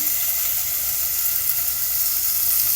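Pieces of chicken are dropped into a pan of frying onions, giving a loud, steady, hissing sizzle that runs unbroken for a few seconds.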